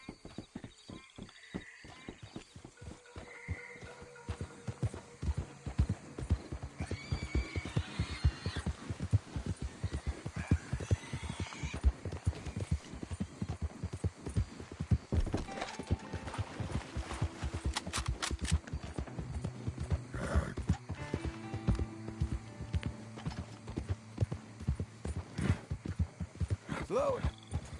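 Horse hooves clip-clop at a steady walk across a Red Dead Redemption 2 landscape, close and continuous, with a player's voice talking over the game sound.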